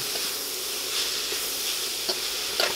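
Cabbage stir-fried with spicy garlic sauce in a wok over lowered heat, a steady close sizzle with scraping and tossing clinks from mixing, no talking.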